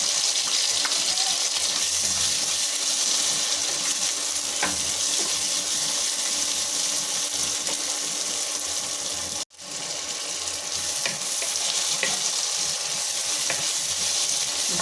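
Chopped tomatoes fry with sautéed onions in a pan for sundakkai vathal kuzhambu, producing a loud, continuous hissing sizzle that cuts out for a moment midway, then carries on.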